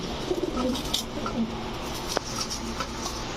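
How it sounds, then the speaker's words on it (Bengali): A male red pigeon coos softly in short, low, repeated phrases amid background noise and a bit of faint voice, the calls brief and moderately near. "এখন দেখাবো একটা লালগড়রা নর কবুতর"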